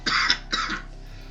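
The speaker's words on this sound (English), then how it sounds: "I didn't mean to cough on camera" Two quick coughs from a man, close to the microphone, the second slightly shorter, followed by quiet room tone.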